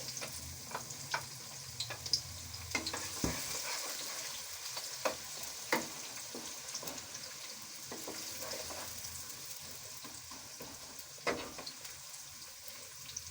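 Onions fry in hot desi ghee in a kadai, giving a soft, steady sizzle with scattered spatula scrapes and clacks against the pan, fairly quiet and close, with no voices.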